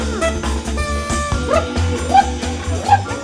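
A man imitates dog barks and yips to catch a pet's attention during a photo shoot, short voiced bursts repeating over a steady low background hum.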